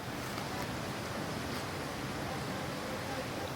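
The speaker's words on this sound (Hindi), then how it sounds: "ये लग रहा आपको बहुत कम पानी, लेकिन काफ़ी तेज़ बहाव है। आपको साउंड आ रही होगी" A fast, shallow stretch of the Ganges near Gangotri rushes in a steady, dense roar of flowing water that fills the whole moment at constant loudness, with no voices on top.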